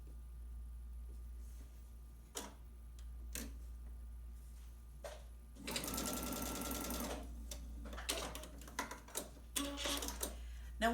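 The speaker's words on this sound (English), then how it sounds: "stitch down that center line" Sewing machine stitching down the center line of a cactus quilt block, a quiet steady ticking whir running for about two seconds, with light taps and fabric handling before and after.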